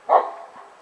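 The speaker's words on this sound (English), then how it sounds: "Dogs are barking." A single short dog bark, fairly close, on a rainy day outside a dorm, fading into quiet afterward.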